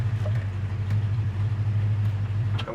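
The engine of a 1966 Ford Mustang coupe idles steadily with a low, even rumble, heard up close and alone.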